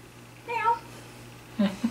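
A house cat gives a single short meow at close range, followed by a brief burst of a person's voice near the end.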